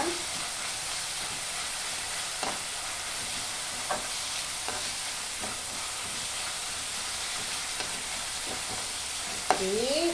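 Egg and moringa leaf stir-fry cooking in a pan, with a steady close sizzle and hiss broken by occasional scrapes of stirring.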